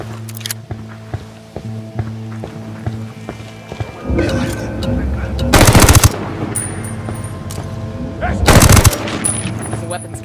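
M4A1 assault rifle fire in Ghost Recon Wildlands during a stealth mission, two loud sustained automatic bursts standing out over a steady game ambience with scattered quieter taps and clicks.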